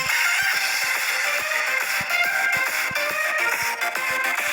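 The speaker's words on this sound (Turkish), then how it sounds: "Macera müziği çalıyor bildiğin." Upbeat adventure music from a video game plays steadily and fairly loud, with bright sustained tones and a regular tapping percussive beat running throughout.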